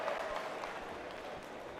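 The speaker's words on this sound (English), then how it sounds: "The cheers of the crowd." A faint, brief burst of crowd applause and cheering fills a pool hall during a 2024 Reyes Cup nine-ball match, sounding distant and diffuse.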